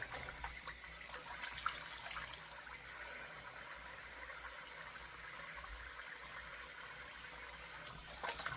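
Steady water from a tap runs continuously for a rinse, a broad even hiss that holds at a constant level throughout with no pauses.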